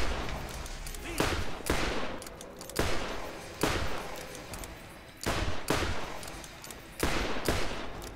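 Repeated bursts of gunfire from weapons blasting a boss in Borderlands, the loud sharp volleys coming every second or so with rumbling game sound between them, and someone talking underneath.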